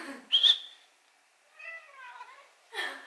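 A domestic cat lets out a few meows, a sharp high cry early on and a softer, wavering one a little later, close by and separated by quiet gaps, with a voice briefly heard at the end.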